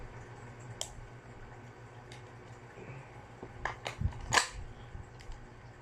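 Tokyo Marui MWS airsoft rifle set up as a semi-auto-only DMR, firing a few faint, sharp single shots spaced apart against a quiet background.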